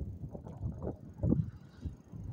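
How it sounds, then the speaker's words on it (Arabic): Strong wind buffeting the microphone during a bicycle ride in the countryside, gusty low rumbles that rise and fall in uneven bursts. "الريح بزاف"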